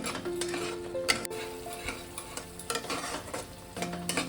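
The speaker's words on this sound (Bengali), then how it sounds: "এবার আবারও মশলাটা আমি আরেকটু কষিয়ে নেব মিনিট দুই" Spice masala for a prawn dish being stirred and fried with onion in a pan, a steady sizzle with repeated scraping stir strokes and light utensil clinks throughout, fairly close and with no talking.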